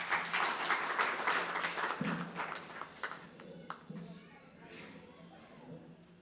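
Audience applause in a university hall at a national education day event, welcoming a speaker to the stage; dense steady clapping with occasional sharp taps, under ongoing voices throughout.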